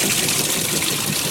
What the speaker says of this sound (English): And there's the softener going in.